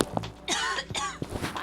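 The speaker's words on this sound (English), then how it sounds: "Why am I coughing?" A woman coughs several times in a row, sharp hacking bursts close to the microphone, with a short pause between them.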